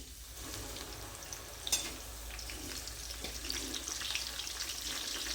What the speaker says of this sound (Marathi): आता आपण कोथिंबीर तळून घेऊ.